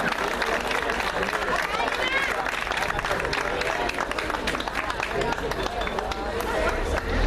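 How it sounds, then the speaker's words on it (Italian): Audience applause at the 2015 Talent Show finale in Mira, near Venice: dense, steady clapping from a crowd that runs the whole time, mixed with cheers and chatter. "L'applauso."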